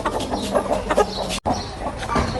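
Fighting roosters shut away in a pen cluck and call up close in short, uneven bursts, with one abrupt dropout midway.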